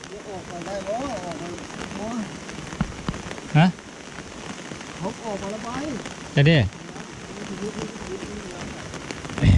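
Steady rain pours down during the rainy season in a rural Thai-Lao village, a continuous hiss on surfaces with a couple of sharper splashes, while people chat in the foreground.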